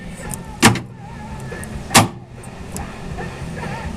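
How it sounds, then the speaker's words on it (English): Power door locks actuate on a chopped Chevelle, two sharp loud clunks about a second apart, followed by fainter clicks over a quiet background. "so we got power locks"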